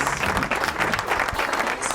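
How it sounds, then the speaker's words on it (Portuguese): A live studio audience at a podcast recording bursts into loud, dense applause, a continuous close clatter of many hands clapping throughout. "Palmas!"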